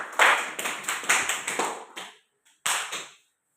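A classroom of primary-school children claps together in quick, rhythmic bursts, fairly close and loud. A short pause follows, then one last burst of claps.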